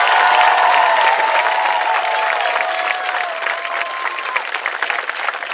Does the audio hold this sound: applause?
yes